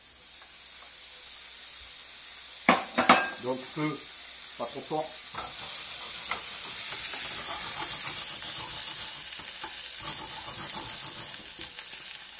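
Chicken gizzards frying in a pan over moderate heat, a steady soft sizzle running throughout, with a few louder crackles and stirring clatters early on; someone speaks briefly over it.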